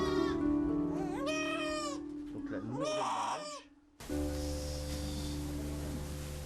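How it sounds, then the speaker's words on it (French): Goats bleating loudly and repeatedly at close range in a farm waiting area where goatherds gather them before the evening milking, over a steady background drone, with a rooster-like call mixed in. "les chevriers rassemblent les chèvres dans l'aire d'attente"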